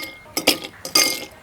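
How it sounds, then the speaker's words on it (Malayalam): Ice cubes drop into a glass in two quick bursts, each a bright clinking rattle, close and crisp against near silence. "നമ്മൾ കുറച്ച് ഐസ് ക്യൂബ് ഇടുന്നുണ്ട്."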